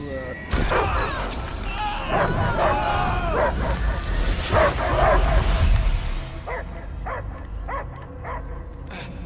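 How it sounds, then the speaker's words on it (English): Dog barking and yipping inside the video game Guardians of the Galaxy, a run of short sharp barks near the end following a stretch of game voices and effects. "I hear only barking."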